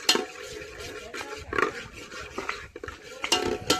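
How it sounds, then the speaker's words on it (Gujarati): Butter being stirred in a metal cooking pot at an outdoor farm gathering, with repeated scraping and clinking of a spoon against the pot in an uneven rhythm, close and fairly clear, with faint background noise. "બટર નું કરો મિક્સર"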